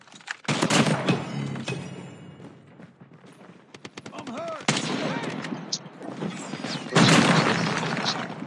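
Video game gunfire bursts out in several loud rapid volleys separated by pauses, with a player talking between shots.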